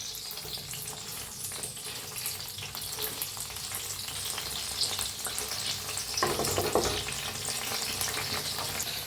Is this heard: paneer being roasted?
yes